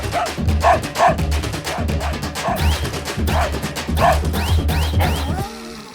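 A dog barks in a loud, repeated series of sharp woofs and yips against busy background noise in a comedic film scene.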